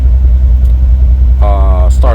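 Mercedes SL600 V12 engine idling after a start, a steady deep low rumble throughout with a voice cutting in briefly near the end.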